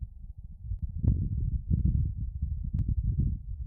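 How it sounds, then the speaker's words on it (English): Wind on Mars recorded by a NASA rover: a low, buffeting rumble that gusts and swells steadily across the whole stretch, with a couple of faint brief ticks, no voices. "This is the sound of wind on Mars."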